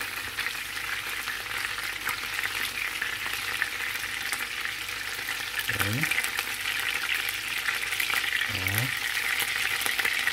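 Giant shrimp in batter frying in oil, Korean style, a steady loud sizzle and crackle throughout, with two short scraping or clinking sounds as pieces are turned.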